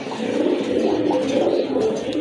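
A white satin pigeon coos nearby in soft, repeated throaty rolls, loud and close with no talk.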